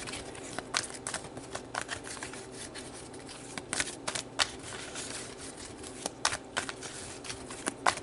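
Tarot cards are shuffled close by, making quiet, repeated papery riffles and clicks in an irregular rhythm, with no voice.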